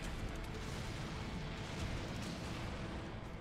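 Explosions in the video game Serious Sam 3 make a loud, dense, sustained rumbling blast that fills the whole clip with no pauses.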